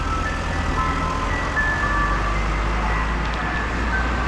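Gas delivery truck in a town near Tokyo playing a jingle, a thin tinny melody drifting in from a distance over a steady traffic hum.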